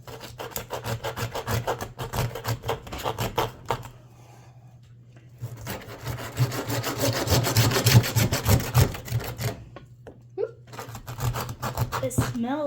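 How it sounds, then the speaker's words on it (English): A hand saw rasps through hog bone during butchering, with repeated back-and-forth strokes in two long bursts separated by a brief pause, loud and close, and people talk over the cutting. "These saws don't do great on the meat, just on the bone itself."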